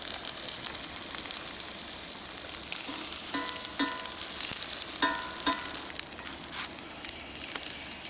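Pancake batter sizzling steadily in a Lodge cast iron skillet at a camp cooking setup, a loud continuous fry with a few sharp clinks from a utensil partway through.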